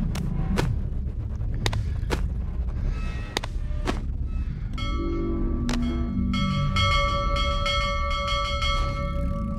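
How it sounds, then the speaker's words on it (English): A bell rings out in the Boneworks VR game: a tonal, sustained ring that builds and lingers over a heavy low rumble and scattered thumps, with no one speaking. "What happens if you ring the bell?"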